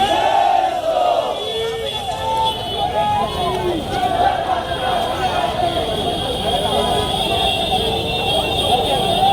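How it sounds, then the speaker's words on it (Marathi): A large, dense crowd fills a Mumbai street at a Ganesh idol arrival procession. Loud, continuous babble and shouts come from all around, with people talking nearby. "गर्दी पण आज भरपूर आहे"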